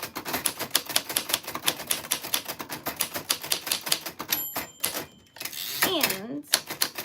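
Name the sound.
typewriter typing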